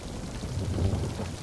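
Storm rain in the pirate game Sea of Thieves, a dense, steady low rumble of downpour and wind heard up close with no voices over it.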